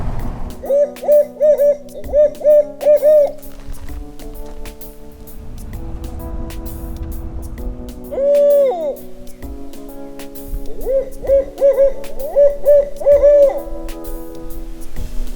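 A person imitates a hoot owl call, giving repeated rhythmic hooting phrases in short bursts with pauses between, close and clear.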